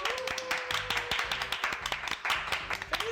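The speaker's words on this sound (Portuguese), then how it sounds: "uma salva de palmas de parabéns para aniversariante do dia" A small group claps in a quick, uneven rhythm to congratulate a birthday guest, Soraya Purificação, during a Brazilian podcast episode, the hand claps close and fairly loud with faint voices underneath.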